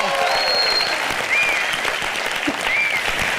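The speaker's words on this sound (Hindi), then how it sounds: "एक बार जोरदार तालियां दीपिका और रणवीर के लिए।" Loud studio audience applause at a Hindi comedy TV show, steady dense clapping throughout with faint cheering whistles on top.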